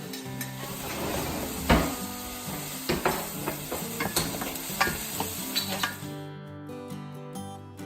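Garlic sizzles and fries steadily in a pan for several seconds while a utensil stirs and scrapes, with a few louder clinks before the sizzle cuts off near the end.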